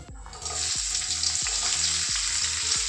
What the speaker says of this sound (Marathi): मिरची थोडी परतून घेऊया.